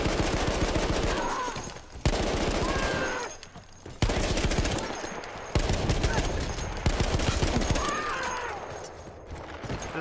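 Gunfire in the game Battlefield 1 rolls on in dense, loud, continuous bursts, with heavy shooting broken by only brief dips across the whole stretch.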